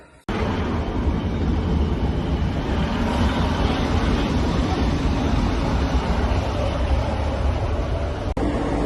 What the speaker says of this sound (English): So now on the train to Manchester Victoria, let's go.